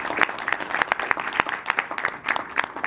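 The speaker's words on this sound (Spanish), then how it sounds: "Para ello recibimos con fuertes aplausos al profesor Luis Castillo," Audience at a physics-and-God debate applauds to welcome Professor Luis Castillo, a moderate patter of clapping with distinct sharp claps standing out, steady through the clip with no voices over it.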